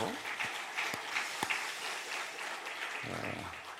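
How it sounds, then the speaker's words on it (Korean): A church congregation at an early-morning weekend prayer service gives a round of applause to the elders who preached, scattered clapping spread through the room while a pastor's voice continues over it. "우리 수고하신 장로님들에게 격려의 박수 한번 보내주시고"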